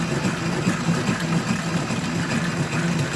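A Logan lathe runs steadily at about 150 RPM with a faint chatter, a continuous close mechanical hum and low rumble with no voices.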